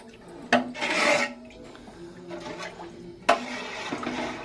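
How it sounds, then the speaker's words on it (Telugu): Chicken biryani leg pieces are stirred in a pot with water, giving soft scraping and sloshing rubs, two sharper knocks of the spoon against the pot and a quiet wet swish between them, with no talk. "దానికి వాటర్ వేసుకున్నాను, చక్కగా ఒకసారి కలియబెట్టుకుంటున్నాను."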